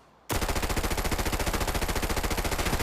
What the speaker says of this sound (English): Now I'm gonna be shooting at these dummies over here.